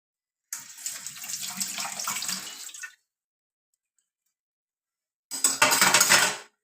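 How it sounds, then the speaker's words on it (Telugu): Running tap water splashing over dishes with clinks of utensils, in two bursts separated by silence; no voices. "ఈ గిన్నెలన్నీ క్లీన్ చేసేసుకుంటాను"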